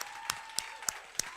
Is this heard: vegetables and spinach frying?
no